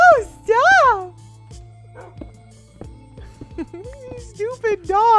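Dogs bark and yip in a Minecraft UHC match, short bursts of loud high barks at the start and again near the end, with a voice talking between them.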